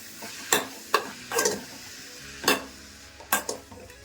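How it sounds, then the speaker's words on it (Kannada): Greens frying in ghee for a sambar tempering, a soft sizzle broken by several distinct scraping stirs of a spoon against the pan, close and otherwise quiet. "ಒಗ್ಗರಣೆಗೆ ಸೊಪ್ಪನ್ನ ಬೇಯಿಸ್ಕೊಂತಾ ಇದ್ದೀನಿ."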